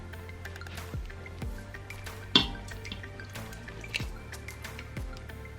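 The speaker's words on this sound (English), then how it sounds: "Next, I'm going to add the pinto chili beans." Canned pinto chili beans sliding and plopping into an Instant Pot, with a few wet drips and soft squishy splats spaced across the clip, one sharper thud near the middle, faint and close.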